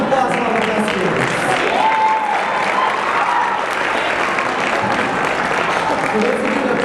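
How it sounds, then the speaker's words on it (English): Sustained applause from a school theater awards audience fills the room, a dense steady clapping that holds loud for the whole stretch, with faint crowd murmur underneath. "One more round of applause for our thespians."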